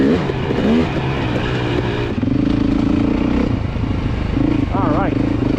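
A 2024 Beta 430 RR Race Edition dirt bike engine running close by at a demo day, a continuous loud throbbing rumble with rising rev swells, while someone talks over it.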